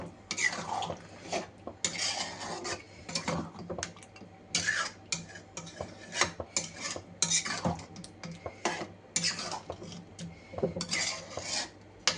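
Spoon stirring fresh cream and water into a chicken gravy in a pot, with steady close clinks and scraping knocks against the metal rim, rhythmic and fairly quiet.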